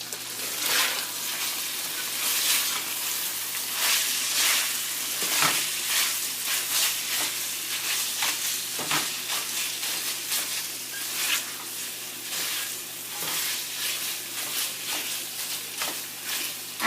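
Achari chicken curry bubbles and sizzles steadily in a pot, a dense, continuous simmering crackle with soft popping bursts running throughout, close and fairly loud with no talk.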